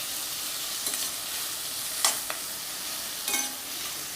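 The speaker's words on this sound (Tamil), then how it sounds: "வெங்காயம் நல்லா வதங்கட்டும்" Onions sautéing in a pan for a ridge gourd and prawn gravy give off a steady, even sizzle, broken by two or three brief scrapes from stirring, with no voices.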